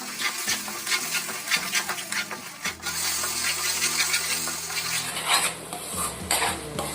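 Roasted ground masala for a sardine curry sautés in oil as a spoon stirs and scrapes the pan close up, with clattering strokes over a light sizzle.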